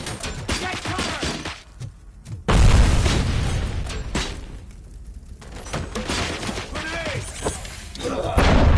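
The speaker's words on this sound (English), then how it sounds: "Grenade!" Grenade explosion in the Robocop Rogue City video game, a heavy boom that hits about two and a half seconds in amid busy combat noise, gunfire and shouting voices, then rumbles on with further blasts near the end.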